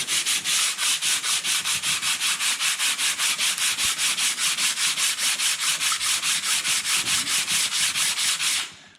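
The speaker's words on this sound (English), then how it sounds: "So we're just going to sand this head." Cylinder head from a John Deere B tractor engine under rebuild is sanded by hand, a loud close rhythmic back-and-forth rasp of about four strokes per second that runs steadily for nine seconds before stopping.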